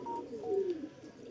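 A soft, low coo from a Mataj ice-eyed pigeon, a single brief rolling call heard close and quiet, with no talking.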